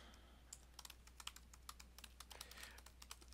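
Rapid, uneven keystrokes clatter on a computer keyboard for the whole stretch, close and fairly quiet over a steady low electrical hum, with no voices.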